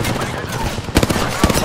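Close gunfire in the battle royale shooter Apex Legends, a few sharp shots and short bursts clustered over under two seconds amid dense game noise.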